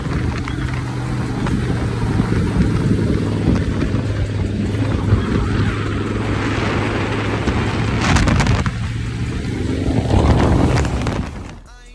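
A dune buggy tears flat-out across Peruvian sand dunes, its engine a steady, loud drone with wind buffeting the microphone and a harder surge near the end before it cuts off.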